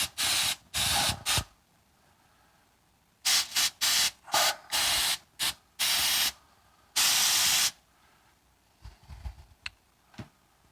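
Cooking spray hisses onto a pan fitted with silicone egg rings in a run of short bursts, several quick squirts followed by longer sprays, close and loud, with faint clatter afterward.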